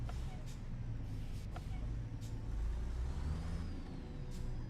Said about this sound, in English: this truck doesn't sound angry enough in the headphones